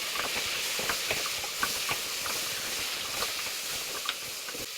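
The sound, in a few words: food frying in a pan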